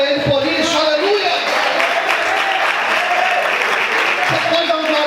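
A church congregation applauding and cheering during a sermon, dense loud clapping mixed with voices and shouts throughout, close and sustained.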